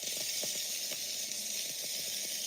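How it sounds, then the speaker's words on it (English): A big plate of onions sizzles on a flat-top griddle, a steady close hiss with faint crackles and pops, with no talking. "That's a good sizzle."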